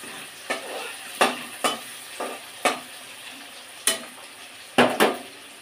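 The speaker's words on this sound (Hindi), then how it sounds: "कैसे लोटे मछली कैसे कढ़ाई में बनाते हैं" Lotey (Bombay duck) fish frying in a kadhai in a home kitchen: a steady sizzle broken by about nine sharp scrapes and clinks of stirring at uneven intervals, close and clear.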